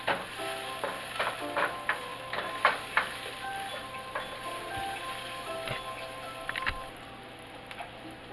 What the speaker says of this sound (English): the onions, of course you're going to have to let these cook for a minute or so